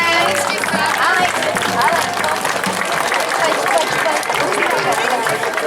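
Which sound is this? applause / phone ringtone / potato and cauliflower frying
applause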